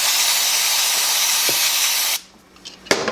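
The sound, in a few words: chain cleaner sprayed onto a motorcycle chain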